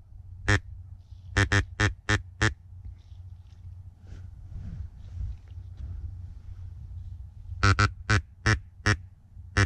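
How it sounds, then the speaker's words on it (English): A group of ducks quacks outdoors in bursts of rapid, loud calls, one cluster at the start and another near the end, with quiet ambient noise and faint sounds between. "I got a whole group of ducks out there, right in front of me"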